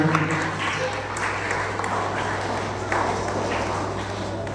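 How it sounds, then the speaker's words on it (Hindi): A crowd at a school event gives a guest a loud, sustained round of welcoming applause. Dense clapping stays steady throughout, over a low background hum. "जोरदार तालियों से स्वागत करें।"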